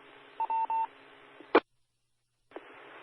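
DTMF tones sent over a 145.490 MHz amateur radio repeater to unlink the Joplin repeater: three short steady beeps over radio hiss, then a squelch burst and a gap of silence before the carrier returns.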